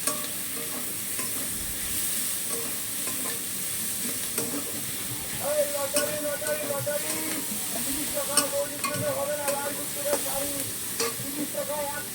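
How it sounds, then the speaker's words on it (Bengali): Magur fish curry frying and being stirred in a pan: a steady, close sizzle runs throughout, broken by light scraping and clinking as the spoon moves the pieces around. "অলরেডি পুরো ভাজা ভাজা করে ফেলতে হবে নেড়ে।"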